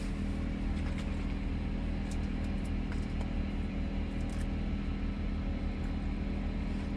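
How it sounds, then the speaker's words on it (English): Inside a truck cab, a diesel heater and an air fryer run together as a steady low droning hum with a faint whirring fan, constant and close, broken by a few tiny clicks and no speech. "It's getting hot in here with this diesel heater and this air fryer working."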